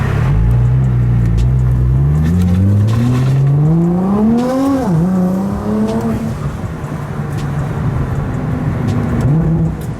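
A 700hp Rocket Bunny Nissan GTR accelerates hard, its loud engine tone climbing through the revs, dropping sharply at a gear change, then climbing again before settling, heard continuously up close from inside the car.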